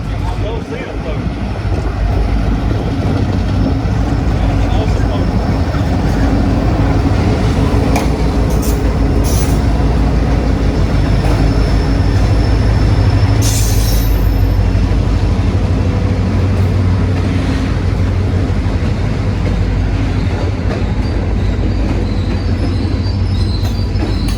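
KCS freight train led by EMD GP38-2 locomotive 1908, in Grey Ghost paint, rolls past loudly with a continuous heavy rumble, wheel squeal and rhythmic clatter of cars running on the rails.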